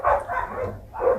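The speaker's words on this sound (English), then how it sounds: "even these dogs barking" Dogs in South Africa bark close by, three loud, full barks in quick succession with short gaps between them, no talking over them.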